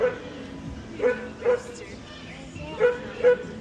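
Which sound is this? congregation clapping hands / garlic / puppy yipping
puppy yipping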